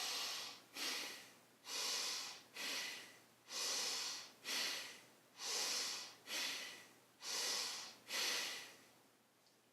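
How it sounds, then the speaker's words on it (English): Bhastrika pranayama yoga breathing: about ten forceful, sharp nasal breaths in a steady rhythm, each a loud rushing puff with a brief gap between, heard close up and alone with no talking. "when you're ready, inhale as deep as possible again"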